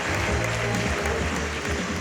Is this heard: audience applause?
yes